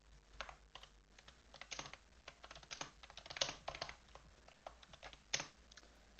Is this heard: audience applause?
no